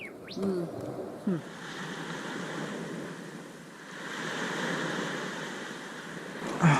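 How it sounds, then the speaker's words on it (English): Small twittering birds on a remote offshore island: a few faint, brief chirps come over a steady wash of surf, with distant birdsong mixed into the background noise. "There's lots of birds here. Just everywhere. Little twittery ones."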